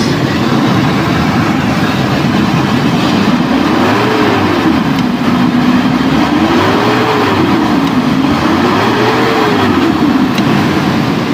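Toyota Kijang Kapsul engine revving after an emission control module repair, a loud continuous drone that climbs and falls in three slow swells as the throttle is blipped, with no talk over it.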